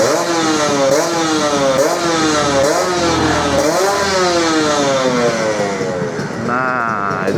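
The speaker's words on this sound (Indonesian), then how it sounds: "itu tadi kita sembari manasin ya teman-teman ya, manasin motornya." A two-stroke motorcycle engine warming up, loud and close, revving up and down in repeated rising and falling sweeps with a steady idle between, with no voices over it.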